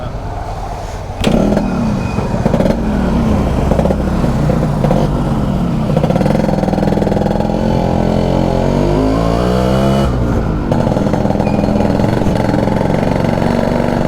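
A restored, 30-year-old Yamaha RX100 motorcycle runs steadily at close range, its engine hum even and unbroken for the whole stretch, with no voices over it.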